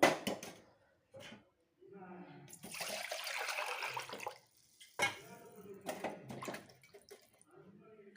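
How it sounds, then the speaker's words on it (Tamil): Water pours in a steady splashing stream for a couple of seconds into a pressure cooker, close by, with a person talking before and after. "ஃபஸ்ட்டு ஒரு ஒரு மடங்கு தண்ணி ஊற்றிடுறோம்"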